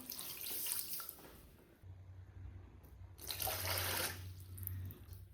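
Water poured from a cup into a pan of sugar for pumpkin sweet syrup, a close, steady liquid splash with a low running tone that pauses briefly and then swells again.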